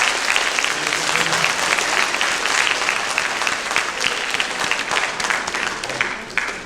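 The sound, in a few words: audience applause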